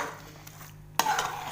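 A spoon stirs carrot halwa into khoya in a pan: a soft scrape, then a sharp metallic clink and a brief scraping of utensil against the pan, close and alone.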